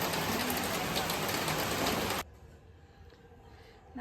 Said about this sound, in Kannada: ಇದ್ದಕ್ಕಿದ್ದಂಗೆ ಜೋರ್ ಮಳೆ ಆಗೋಗಿದೆ.